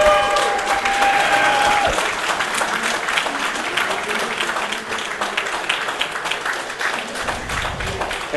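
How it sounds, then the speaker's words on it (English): Steady, dense applause from a wrestling crowd at the 2018 Young Lions Cup greeting the sixteen competitors, filling the room evenly for several seconds with some faint voices mixed in. "Let's give them a round of applause."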